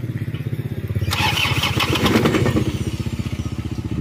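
An overheating motorcycle idles with a rapid, even chug, then is revved up loudly for a couple of seconds before settling back to a steady, close idle.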